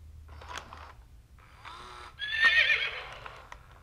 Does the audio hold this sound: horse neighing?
yes